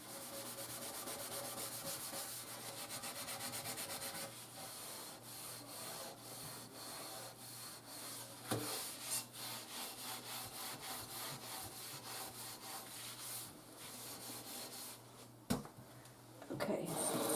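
Rapid rhythmic scrubbing strokes of a steel wool SOS pad rasp against a metal baking sheet with baked-on food, steady and continuous, faint overall with a couple of louder knocks.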